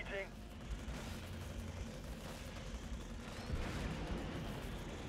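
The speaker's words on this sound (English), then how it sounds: "we wanted to get the barrage off on them" Artillery barrage in the video game Halo Wars, a low rumbling stream of distant booms and rolling explosions under steady game noise, fairly faint overall.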